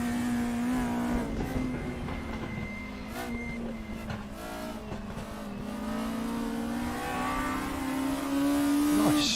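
A VW Scirocco racing car engine at Brands Hatch, in a video game, revs high toward 9,000 rpm and keeps climbing, a continuous whining roar rising in pitch toward the end.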